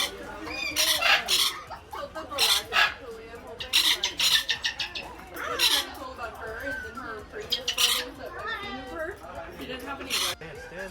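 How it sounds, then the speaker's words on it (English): Many rescued birds at a farm with kangaroos squawk and chatter in repeated bursts, close and fairly loud, with children's and adults' voices talking over them. "So here's a whole bunch of birds."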